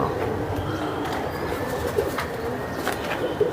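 Bengal Giribaz pigeons cooing at a busy bird market, soft repeated coos and a few brief wing flutters rising over a steady crowd murmur.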